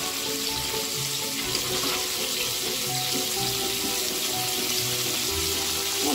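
Boiling water goes into a pan of frying pork and onions, and a loud, steady sizzle and bubbling hiss carries on evenly and close up throughout.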